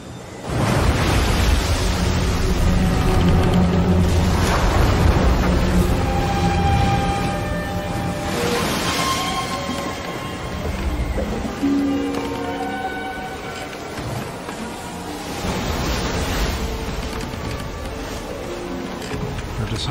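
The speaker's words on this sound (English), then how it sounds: "a strong wind was blowing and stirring up the water." Strong wind whips across lake water and stirs up waves, a loud, broad rushing roar that swells and eases in long surges throughout.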